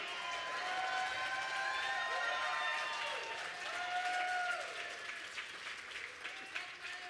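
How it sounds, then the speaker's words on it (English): Steady applause and clapping fill a large convention hall at a National Action Network gathering, with cheering voices and whoops over the crowd, fading slightly toward the end. "Can a sister get a clap up in here?"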